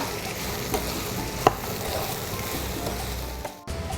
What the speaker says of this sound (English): So I'm going to stir it a little.